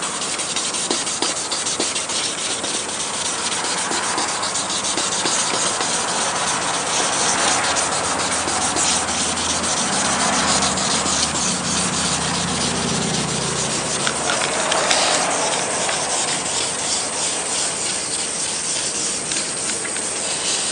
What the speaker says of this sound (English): So now I have some clean, fresh sandpaper, and continue over here.